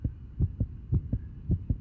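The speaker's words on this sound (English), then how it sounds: "Oh man, you can hear the heartbeat." A heartbeat in the horror video game Corpse Party: Book of Shadows, a steady thudding pulse of low double beats repeating about every half second, loud and close with no talking.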